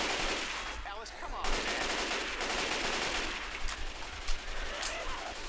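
Rapid automatic gunfire from Left 4 Dead 2 in the Dead Center zombie campaign rattles loud and continuous, with a few sharper shots standing out, while players talk over it.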